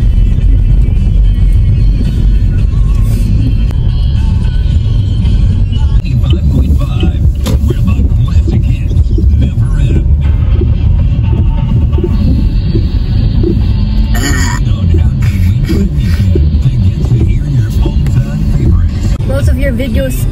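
Inside a moving car on a drive-thru outing, a loud, steady low engine and road rumble fills the cabin continuously while voices chat over it.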